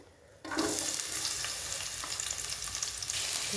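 Crushed shallots and onion dropped into hot coconut oil, a sudden loud hiss that settles into a steady, close sizzle with light stirring.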